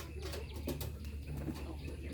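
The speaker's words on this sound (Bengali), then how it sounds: "এই দেখুন বোম্বাই কবুতর কি সুন্দরভাবে ডাকতেছে" A Bombay pigeon cooing in soft, low repeated calls, faint and close, with light background noise.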